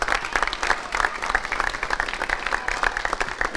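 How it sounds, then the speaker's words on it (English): Crowd applause at the grand final of a seniors netball cup presentation, with distinct individual claps standing out in a lively, uneven rhythm over a sustained clapping bed. "So another round of applause for Kyle and Josh"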